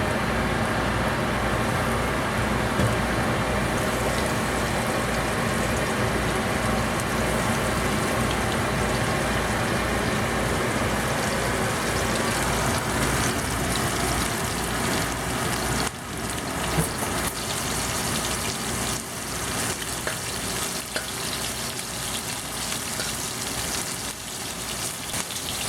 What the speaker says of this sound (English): so I'll put all the shrimp in it.